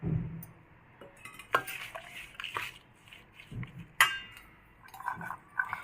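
Fresh lemon juice is stirred into a cauliflower pickle in a home kitchen. A spoon scrapes and clinks against the bowl in scattered, irregular taps, with soft wet squelching between them, all close and fairly quiet.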